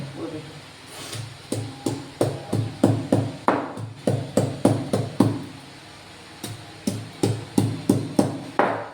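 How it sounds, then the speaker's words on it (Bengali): Onion, green chili and cumin being ground together into a paste, heard as a steady run of close, hard rhythmic knocks in quick bursts, with a short pause partway through. "এভাবে পেঁয়াজটা, লঙ্কা, জিরেটা বেটে নেবো একসাথে।"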